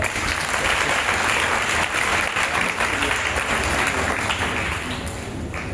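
A church congregation at a Holy Spirit seminar breaks into loud, sustained applause, a dense wall of clapping hands that holds steady throughout and eases slightly near the end.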